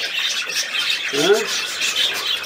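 A budgerigar lets out a brief squawking chirp nearby, with light scratchy rubbing noises, while someone speaks softly to it.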